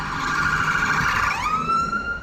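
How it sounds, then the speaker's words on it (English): Emergency sirens pass outside a damaged old theatre. A loud wailing tone holds steady and then slides upward as a second siren cuts in, with no talk. "More sirens."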